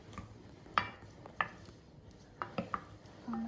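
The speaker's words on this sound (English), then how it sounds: "So now we're just going to gently mix the ingredients together." Ingredients being gently mixed in a Stone Age cooking setting produce soft, sparse clinks and scrapes, a few distinct light knocks and one brief squeak, faint and close, with no talking.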